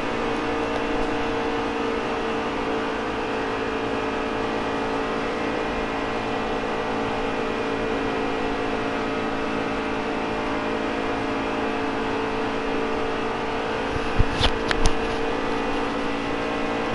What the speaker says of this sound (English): Boy, these trucks sound beautiful,